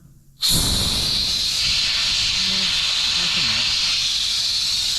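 A sudden loud blast of compressed air rushes out of an air line to blow debris clear, a harsh, steady close hiss that starts abruptly after a brief quiet moment and holds to the end.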